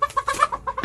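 Chickens clucking inside a backyard coop on a rural plot, short rhythmic clucks repeating several times close by, with no talk.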